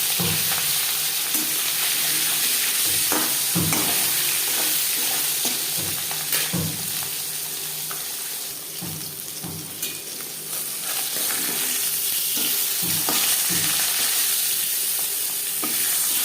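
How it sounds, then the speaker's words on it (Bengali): Catla fish sizzles steadily in hot mustard oil while a utensil scrapes and taps the pan now and then, no voices. "তিন চামচ সরষার তেল গরম করে নিয়েছি দিয়ে দেবো মাছ"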